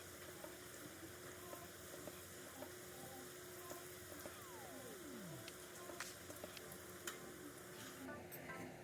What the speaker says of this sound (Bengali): তো এইভাবে আমি সমস্তগুলো ভেজে নিচ্ছি।